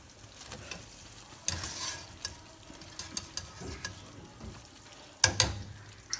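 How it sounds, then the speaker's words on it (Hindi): Koftas cook in kadhi over a low flame: a gentle bubbling sizzle with occasional spoon clinks and scrapes against the pot, close and fairly quiet, no voices. "फिर इसको हल्की आंच पे थोड़ी देर के लिए कड़ी में पकाएंगे कोफ्तों को।"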